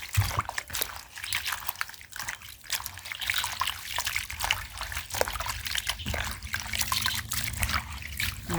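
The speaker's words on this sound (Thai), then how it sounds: "อันนี้ล้างน้ำที่สามแล้วนะคะ" Dried roselle calyces being rinsed in a third change of water, a steady trickle and splash of water with sloshing as the flowers are washed, continuous and fairly close.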